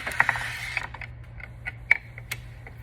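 A ratchet turns a screw out during an Eclipse caliper replacement, giving scattered sharp mechanical clicks and ticks, close but fairly soft, against a low steady hum.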